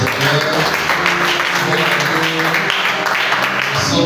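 A church congregation applauding during an evening worship service, dense continuous clapping from many hands, loud and close, with voices mixed in.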